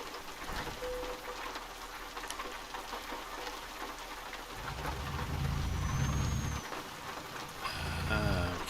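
Steady hiss of rain falling in Euro Truck Simulator 2, broad and continuous, with a low rumbling truck engine swelling in partway through and some faint tonal chimes near the end.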